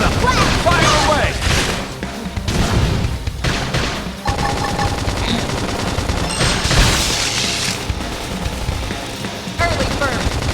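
Dense, continuous gunfire rattles through a Xenoblade Chronicles X battle, with rapid bursts, booms and impacts layered over game music and voices speaking throughout.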